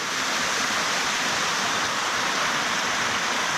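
La Cascada Perdida, a waterfall on the road to Pueblo Bello, roars in a loud, dense, unbroken rush of falling water heard up close, with no voices.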